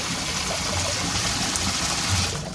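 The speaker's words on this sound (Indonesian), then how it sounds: "luar biasa airnya ya, kencengnya tuh, semburannya tahu ya, cukup kencang ya dan deras" A strong jet of water gushes from a gravity-fed pipe fed from a storage tank, a dense steady hiss and splash heard close up for a few seconds.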